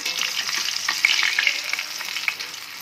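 Food sizzles and crackles in a pan as it fries to a golden color. The frying is close and continuous, with small pops scattered through it and no voices.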